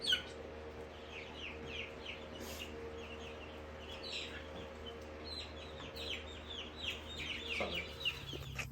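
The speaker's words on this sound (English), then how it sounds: "So the 4 test chickens are in here." Four chickens in a pen cluck and chirp softly and continuously, close by, against a low steady background hum.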